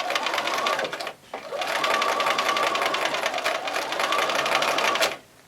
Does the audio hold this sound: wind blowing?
no